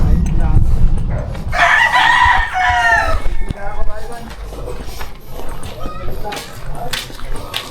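Chickens cluck and a rooster crows on a farm in Rosario, Batangas, the crow rising clearly early on amid low rumbling noise, with people talking nearby.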